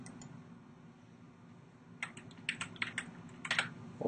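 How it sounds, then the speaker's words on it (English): A computer keyboard is tapped in a short burst of quick keystrokes as a name is entered, close and moderately quiet over a steady background hum, after a brief pause. "We'll type in a name there."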